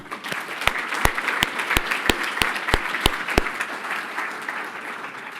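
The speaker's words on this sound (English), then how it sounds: "So a big round of applause." Applause from the audience at the 2024 FAIR Awards Ceremony, a sustained wash of clapping punctuated by a run of about ten sharp, evenly spaced loud claps close by that stop partway while the general clapping continues and fades.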